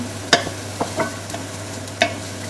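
Onions sautéing in a little oil in a home kitchen pan, a soft low sizzle broken by a few sharp clinks and scrapes of a utensil stirring, with no talking.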